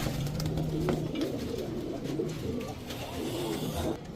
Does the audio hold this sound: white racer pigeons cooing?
yes